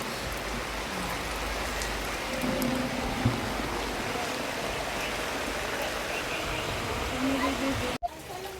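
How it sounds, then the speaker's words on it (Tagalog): Rain falls steadily onto surfaces outdoors, a dense continuous patter with a brief cut near the end and no clear speech. "At humina po yung ulan"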